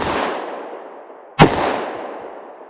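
A single sharp gunshot from a .327 Federal Magnum revolver firing Buffalo Bore ammunition cracks loud and close outdoors, cutting through a steady background hiss, with no talking.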